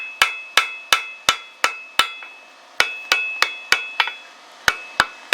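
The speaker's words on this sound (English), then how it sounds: "I'm just tapping this thing really light to begin with" A hammer taps lightly on a white-hot railroad spike while forge welding, giving a close run of sharp metallic strikes with ringing overtones, about a dozen hits in steady rhythm with a short pause midway.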